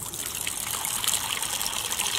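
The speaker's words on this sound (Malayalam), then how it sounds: "അപ്പോൾ ഞാൻ അവർക്ക് കുറച്ച് വെള്ളം ഒഴിച്ചു കൊടുക്കാമെന്ന് വിചാരിച്ചു." Warm water trickles and splashes steadily as it is poured out for backyard chickens, a soft, continuous outdoor dribble with no voices.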